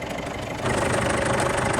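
A diesel pickup truck engine idles just after starting, a steady, dense rumble that grows noticeably louder and fuller about a third of the way in, then holds even and close.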